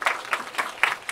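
A lecture audience claps in a few short, scattered bursts of applause that rise and fade quickly.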